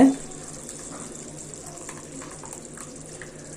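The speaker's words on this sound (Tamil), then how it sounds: "இன்னும் கொஞ்சம் தண்ணி ஊற்றி வாஷ் பண்ணி ஊற்றிடலாம்" Water is poured into a pot to rinse it out while cooking a Tamil medicinal kuzhambu, a soft continuous trickle and splash at close range after a brief louder start, with faint background noise.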